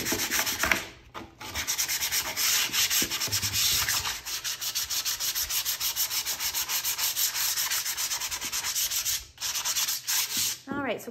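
Sandpaper rubs paint off a vintage wooden sled in rapid, rhythmic back-and-forth strokes, close and scratchy, with a couple of brief pauses between runs of strokes.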